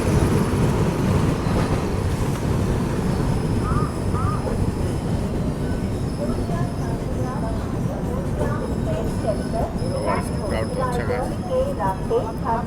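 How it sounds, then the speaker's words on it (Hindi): Train noise at Bhatpara railway station: a steady, loud rumble of rolling stock with station crowd bustle and voices talking throughout, and some higher squeals and tones rising toward the end. "Bhatpara railway station."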